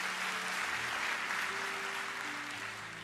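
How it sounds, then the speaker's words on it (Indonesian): Church congregation applauding during a worship service, a steady wash of clapping held at an even level, quiet and fairly distant, with a sustained musical drone underneath. "Kasih tepuk tangan buat Tuhan yang paling dahsyat."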